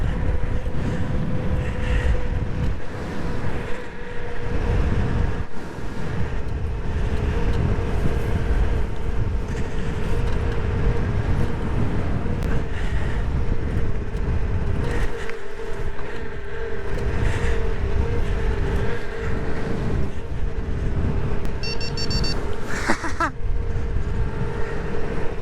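Kugoo M4 Pro electric scooter riding fast downhill, a continuous loud rush of wind and road rumble with a steady motor whine throughout, close and unbroken.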